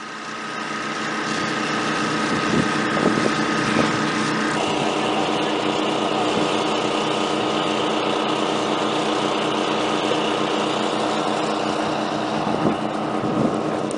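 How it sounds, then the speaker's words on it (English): A 4-inch Honda water pump engine runs at a steady, loud drone beside a lake shore, continuous and unbroken after a brief quiet start. "Priming the 4-inch Honda pump."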